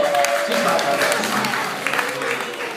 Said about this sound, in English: A round of applause for Stunt Barbie anyway.